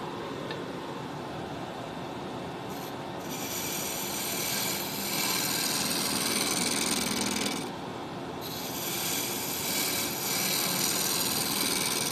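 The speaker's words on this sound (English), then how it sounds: "Now my lathe is variable speed" A variable-speed wood lathe runs while a purpleheart mallet is turned, giving a continuous close rasping hiss. The sound swells and briefly drops away twice.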